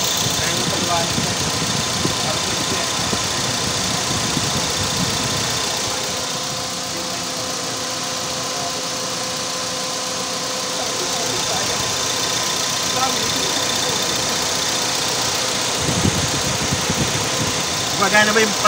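Engine of a 2015 Toyota Vios E automatic idles steadily at close range, a continuous mid-pitched hum with light knocking vibration during basic maintenance work.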